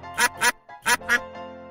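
A small duckling quacks in two quick pairs of bright, nasal calls, separated by a short pause, close and clear with no other sounds.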